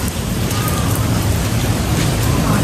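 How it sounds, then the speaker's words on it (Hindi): Heavy rain pours down in a dense, continuous hiss and patter, loud and close, with a low rumble underneath and no clear voices. "बारिश काफ़ी तेज है"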